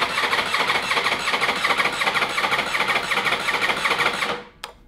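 Ducati Desmosedici RR motorcycle engine under rebuild, cranking on the starter in a fast, even, buzzing whir that runs steadily for several seconds and then cuts off abruptly, close up and loud with no talk.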